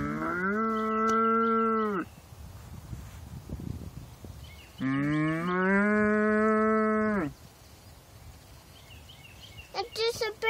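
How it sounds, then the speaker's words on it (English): Cattle on a Texas country property moo in two long, loud calls with a pause between them, followed by a few shorter sounds near the end. Rustling and faint bird calls sit in the background. "Say moo moo."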